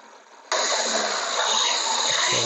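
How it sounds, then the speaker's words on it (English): A Vauxhall Combo van engine catches and then runs steadily, a close, loud, even engine note that holds with a slight rise, heard alone without talk. "This is revving it up a bit."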